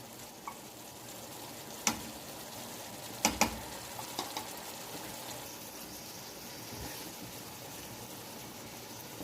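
Ginger garlic paste frying in a home kitchen pan while making kari kofte, a steady soft sizzle with a few sharp clinks and stirring taps early on, no talking.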